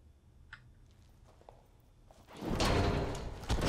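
In the indie horror game ColdSide, a door is forced open: faint clicks and creaks come first, then a loud, close rush of scraping and banging as it gives way, with a final knock near the end.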